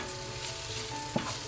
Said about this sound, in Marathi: आपला कांदा ना चांगला व्यवस्थित परतून झालेला आहे.